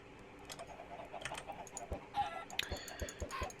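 Chickens in modded Minecraft 1.7 give short, scattered clucks against quiet game ambience, with sharp computer-keyboard clicks mixed in. No one speaks.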